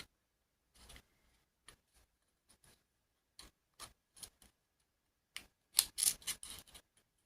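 Paper being folded and creased by hand for a box-style greeting card, a series of short scattered crisp rustles and taps with silence between, growing busier and louder toward the end, close up.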